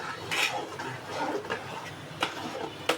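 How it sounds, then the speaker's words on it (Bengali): Tomato sauce ingredients being mixed in a pot, with soft scraping and a few clear clinks of a spoon against metal at close range. "এখন আমি এগুলো মিশিয়ে চুলায় দিয়ে দেব।"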